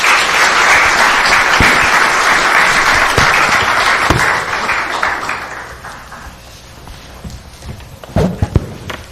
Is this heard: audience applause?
yes